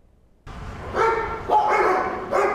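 A shelter dog barks repeatedly and close by, with three loud barks spaced about half a second apart after a quiet start.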